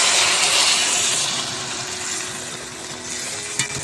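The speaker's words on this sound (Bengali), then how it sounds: "এবার এর মধ্যে দিয়ে দেওয়া হবে গরম জল" Hot water is poured into fried, spiced peas in a pot while cooking ghugni, producing a loud, steady rushing splash that eases slightly in strength and then continues as a softer bubbling pour.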